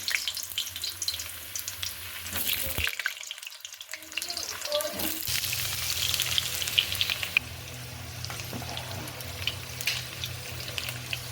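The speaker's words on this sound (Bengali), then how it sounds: "আমি এখন আলুগুলো প্রথমে লাল করে ভেজে নেব।" Potatoes browning in hot oil give a steady, close sizzle throughout, with a brief quieter dip early on and some tapping and clatter over the frying.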